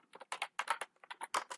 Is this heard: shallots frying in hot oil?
no